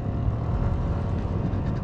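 A Yamaha Aerox 155 Gen 3 scooter engine drones loudly and steadily while riding, a dense continuous rumble with wind noise and no clear breaks.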